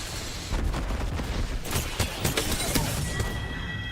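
Missiles launched in a video game, a rapid cluster of sharp firing bursts and crackling blasts that starts abruptly and keeps rattling for several seconds before a thin tone emerges near the end.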